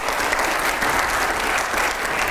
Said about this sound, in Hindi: एक बार जोरदार तालियां हो जाए पहले इसके लिए।